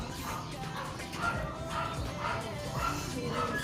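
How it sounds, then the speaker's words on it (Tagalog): A dog barks at an arriving visitor, short yips and barks repeating irregularly at a moderate distance over a steady background hum. "So tumatahol yung aso, may bisita na naman tayo."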